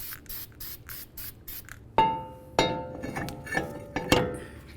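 Copper anti-seize sprayed onto the mating surface of a wheel hub on a 2009-2018 Ram 1500 during a front brake job: a series of short hissing bursts, then several sharp metallic clinks and taps nearby.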